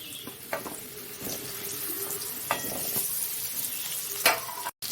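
Sliced potatoes sizzle in hot oil in a pan over a lowered gas flame, with a steady crackling hiss and a few sharp clinks of stirring, no talking.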